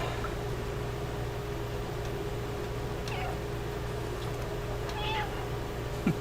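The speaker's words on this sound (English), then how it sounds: "there was a button to actually meow in this game" Cat meowing in the video game Stray, a couple of short faint meows over a steady droning game background hum.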